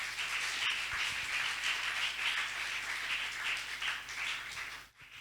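Church congregation clapping and applauding loudly together during a worship service, a sustained dense wash of hands with a brief dip near the end.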